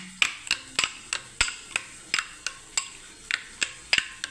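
Spices with salt and coriander powder being worked into a paste for a yogurt-and-eggplant dish: close, sharp knocks struck in a steady rhythm, about three per second, alone and without talk.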